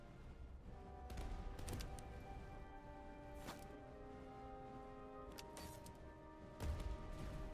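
Cannons fire in the Master of Command war game, several scattered distant booms at irregular intervals over a faint, steady background hum.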